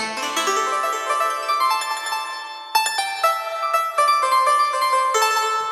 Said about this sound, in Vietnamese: Rồi tiếp theo đó là tiếng đàn tranh.